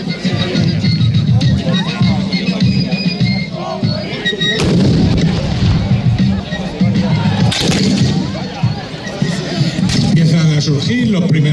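Loud, dense musket and artillery fire at a reenactment of the Battle of Bailén, with sharp cracks and heavy booms, several large cannon blasts standing out, while a crowd murmurs and voices talk throughout.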